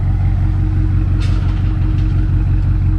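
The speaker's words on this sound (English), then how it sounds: "Cause down low, she definitely got that deep throaty sound now." A forged BMW X6M idles with a deep, throaty exhaust, a steady low rumble holding close and even throughout with no revving.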